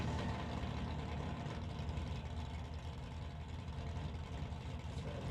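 A 1968 Dodge drag car with a 440 Mopar engine idles in the lane before a National Tire non-electronics final at a drag strip, a steady low rumble from nearby engines throughout with no talk.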